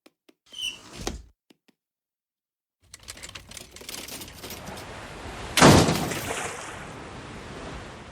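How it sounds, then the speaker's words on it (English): A sliding door in a Family Guy cartoon scene slides open with a loud, rough whoosh that peaks sharply and then trails off, coming after a brief thump and a short stretch of near silence. "Can you open the sliding door?"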